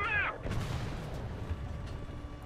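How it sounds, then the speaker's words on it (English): Artillery fire in the War Thunder tank game, a single sharp blast followed by a rumbling, decaying boom with low battlefield noise trailing behind. "Good artillery."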